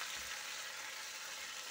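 Duck meat with chilies fries in hot oil and is stirred, giving a steady, dense, close sizzle that holds evenly throughout without pause.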